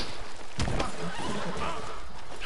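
A horse neighs in Red Dead Redemption II, a short whinny rising over steady game ambience and hoof clatter, fairly close and moderately loud.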